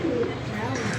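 A pigeon coos close by in a short, soft call, heard over a noisy background.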